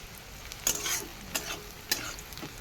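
Stirring in a frying pan before cut potatoes go in, with a soft sizzle underneath and several distinct scrapes and clatters of the spoon against the pan at irregular intervals, close by and fairly quiet, with no talking.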